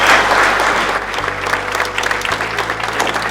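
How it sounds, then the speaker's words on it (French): Guests at a gala applaud warmly for event partners, a brief, steady burst of crowd clapping at fairly loud level, with a low hum running underneath and no talking. "Je pense qu'on peut les applaudir chaleureusement."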